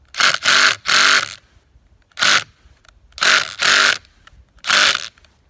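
A Ridgid brushed cordless impact driver tries to drive a stuck fastener in short loud bursts of rapid hammering, seven closely spaced blasts with brief pauses between, near and with no talk.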